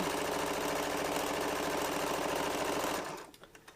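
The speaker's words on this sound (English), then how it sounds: "I'm gonna do some anchoring stitches, sew this along." A sewing machine stitches a quarter-inch quilting seam, a fast, steady mechanical whirring hum running close and loud for about three seconds before stopping, leaving a few soft clicks.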